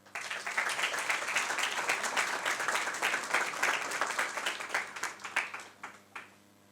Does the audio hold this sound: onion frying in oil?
no